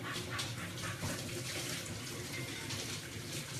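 Tap water runs steadily as hair is rinsed during dyeing, a continuous close hiss and splash with no speech.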